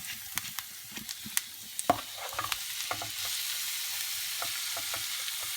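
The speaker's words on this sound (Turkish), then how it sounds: "tereyağımı erittim ve kabaklarımı aktarıyorum" Grated medium zucchini drops into melted butter in a pan and sizzles with a soft, steady hiss, marked by scattered light taps and stirring clicks early on.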